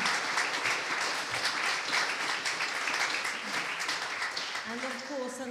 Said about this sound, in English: Applause for our string quartet